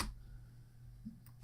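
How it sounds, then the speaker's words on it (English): Keys on a computer keyboard are typed in a short quiet burst at the end, after a low background hum. "So we need to type in sudo"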